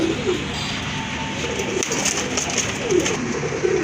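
Andalusian-colored pigeons coo in soft, repeated, rolling calls over a steady background hum, close by and continuous.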